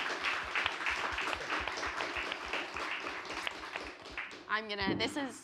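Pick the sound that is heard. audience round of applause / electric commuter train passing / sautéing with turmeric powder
audience round of applause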